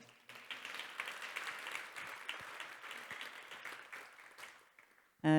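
Conference audience applauding in a hall, a broad steady wash of many hands clapping for about five seconds before it fades, then a loud abrupt tone at the very end.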